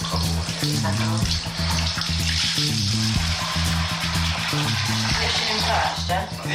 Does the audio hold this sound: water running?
yes